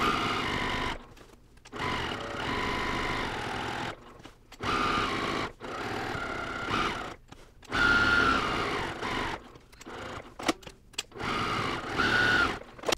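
Sewing machine basting a long loose stitch on a quilted cross-stitch pillow top, running in steady whirring bursts of a second or two with short pauses between, close and alone.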